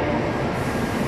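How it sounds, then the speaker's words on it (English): Steady rumble of a Shinkansen bullet train at Shin Osaka station, a close, continuous rolling roar with no voices. "This one going like 400 km per hour, Shinkansen."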